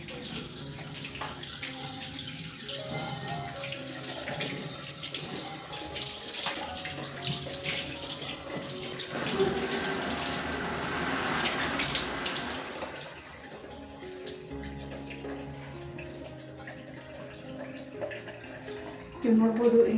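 Running tap water rinsing an oily dish washed with dishwashing gel, a steady splashing stream that swells midway and then eases, with a person speaking over it.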